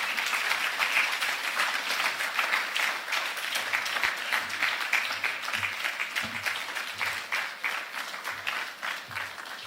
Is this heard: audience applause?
yes